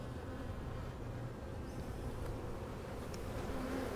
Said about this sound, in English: bees are working on stuff in here